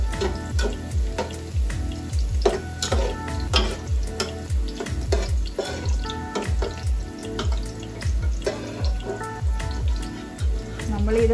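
Raisins fry in hot oil in a pan for Bukhari rice, a close, continuous sizzle broken by frequent stirring clicks and scrapes, with someone talking over it.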